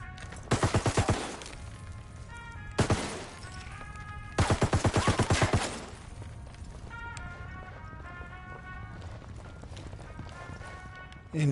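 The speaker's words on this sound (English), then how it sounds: "who says mindlessly destroying stuff with a machine gun isn't fun?" Bursts of rapid machine gun fire in Ghost Recon Wildlands: three loud rattling volleys near the start, middle and around four to six seconds, over a steady game background with tonal music-like hums.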